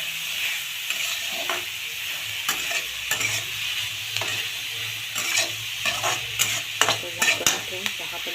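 Ridge gourd chutney sizzles gently in a pan while a spoon stirs and scrapes through it, the soft frying hiss broken by irregular clinks and scraping strokes, close and with no talk.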